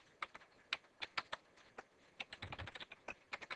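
Irregular keystrokes clatter on a computer keyboard as a router configuration command is typed in, quiet and close, with short pauses between bursts of taps and no talking.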